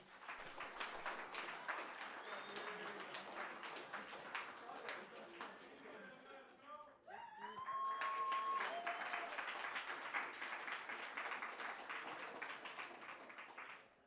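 Steady applause from a crowd, continuous and dense across the whole stretch, swelling slightly louder midway, with a few voices and whistles mixed in.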